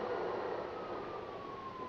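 Police sirens in the video game GTA 5 Online, a faint, slowly falling wail heard under a steady, noisy game mix.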